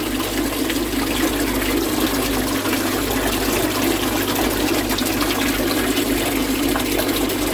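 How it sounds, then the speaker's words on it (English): Water is flushed through a garden pond filter with a steady, loud rushing and gurgling wash that runs unbroken from start to end, with no voices. "Now I'm going to flush that through."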